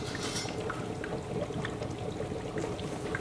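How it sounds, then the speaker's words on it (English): Distilled water pours steadily into the reservoir tank of an HHO hydrogen cell on a light commercial diesel vehicle, a continuous close liquid rush with small splashes and no talk. "You just top off the tank with distilled water."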